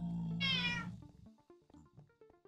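A pet cat lets out one loud, drawn-out meow close by, followed by quieter scattered clicks and small thumps.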